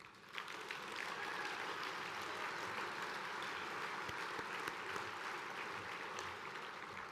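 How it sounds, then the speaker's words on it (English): An audience applauds at a 2025 State of the VOAD Address, a steady, continuous wash of many hands clapping that sounds fairly distant and soft, with no pauses from start to finish. "join me again in offering them a warm and heartfelt round of applause"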